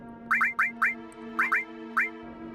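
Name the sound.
honking at an NPC in Final Fantasy VII video game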